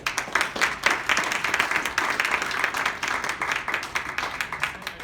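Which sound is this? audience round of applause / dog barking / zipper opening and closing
audience round of applause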